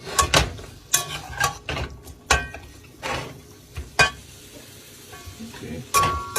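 Minced garlic stirred in a pan while cooking jerk chicken tacos, a series of sharp, irregular utensil scrapes and clinks against the pan, close and clear.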